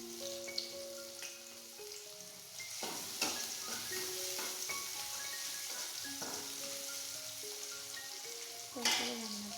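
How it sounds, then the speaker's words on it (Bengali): Chopped onions fry in hot oil in a wok, giving a steady, close sizzle and crackle. Faint background music plays underneath. "পেঁয়াজ কুচি দিয়ে দিলাম"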